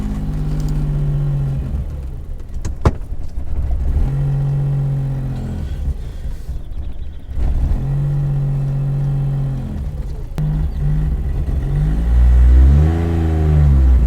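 A Daihatsu Charade GTTI hatchback, run after sitting for 10 years, revs and accelerates, its pitch climbing and dropping in several loud, close surges with a steady rumble underneath.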